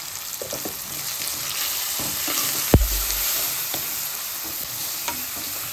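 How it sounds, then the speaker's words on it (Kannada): Ground green chili paste sizzles in hot oil as it is stirred for dosa seasoning, a constant close frying hiss broken by scraping spoon strokes and one sharp clank of utensil against the pan. "ಹಸಿ ಸ್ಮೆಲ್ ಹೋಗೋತನ ಈ ಥರ ಹಿಂಗೆ ಫ್ರೈ ಮಾಡಬೇಕು."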